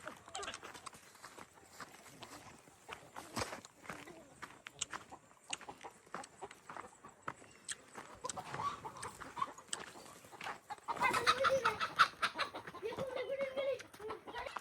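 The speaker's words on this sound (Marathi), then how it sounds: "हे बघा, तिथे कोंबड्या आहेत" Chickens cluck faintly in the background amid scattered footsteps and rustling outdoors, growing a little louder near the end.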